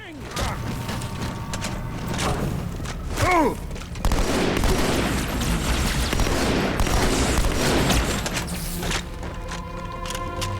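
Video game gunfire from Halo 2 as an SMG and shotgun are used, with dense bursts of shots and mechanical clatter, loud and continuous, with a voice speaking over the action.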